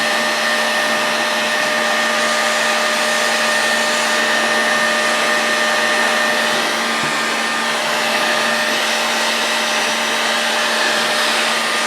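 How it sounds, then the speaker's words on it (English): Heat gun set on high blows with a continuous, loud, even whooshing hum and a steady whine, unbroken from start to finish, while warming a heavy metal part during a Moki 2 10 disassembly. "I've got my heat gun set on high."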